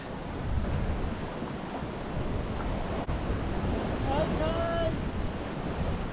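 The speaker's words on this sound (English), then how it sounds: "We've got 15 knots of wind." Steady wind and sea noise roll on aboard an Amel Super Maramu sailboat in 15 knots of wind, with a faint squeak or line creak partway through and no clear talk.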